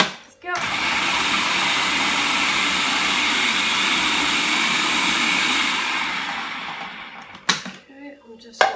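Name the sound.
blender whizzing salmon and prawn dip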